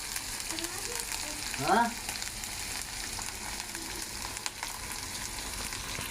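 Ginger and garlic fry in mustard oil with a little salt, giving a steady close sizzle throughout with a brief stirring scrape and a short spoken word.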